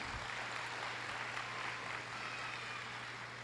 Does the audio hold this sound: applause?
yes